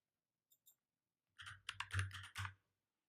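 Someone types on a computer keyboard, starting with two light taps and then a quick, close burst of several keystrokes that stops abruptly.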